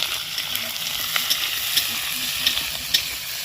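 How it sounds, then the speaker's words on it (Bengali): Potatoes and onions fry in hot oil in a pan, a loud, steady sizzle broken by a few sharp clicks and scrapes of a spatula stirring them. "এবার এগুলোকে একসাথে ভেজে নেব"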